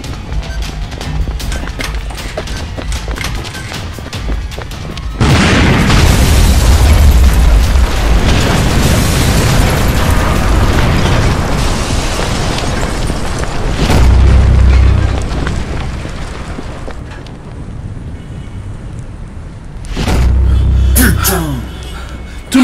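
A bomb going off in the Minecraft video game: a loud blast hits after a quieter stretch and rolls into a long rumbling roar, with more heavy booms swelling later on.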